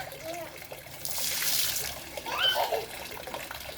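Running tap water splashes and trickles as a bowl is washed at a sink, heard close and moderately loud beneath ongoing conversational voices.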